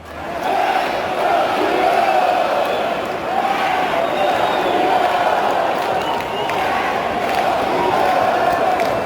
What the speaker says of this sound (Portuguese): Mesmo fora de casa, a torcida do Flamengo não parava de fazer festa